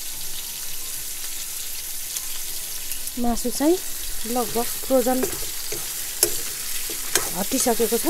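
Meat frying in a pan in a village kitchen in Nepal, a steady sizzle running throughout while someone speaks over it in short bursts.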